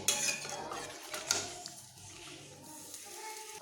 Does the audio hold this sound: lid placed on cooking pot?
yes